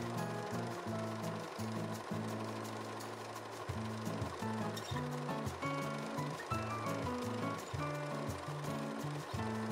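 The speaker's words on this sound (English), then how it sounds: "I finished off the edges of the side seams and the back center back seam with the regular overlocker settings" An overlocker sewing machine runs steadily while finishing the edges of dress side and back seams, giving a fast, even mechanical whir with a rhythmic pulsing hum throughout.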